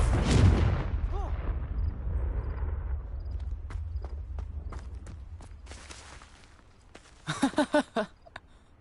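Confringo blasting spells in Hogwarts Legacy: a loud booming explosion opens, followed by a fading rumble, scattered sharp clicks and footsteps, then a burst of rapid blasts near the end.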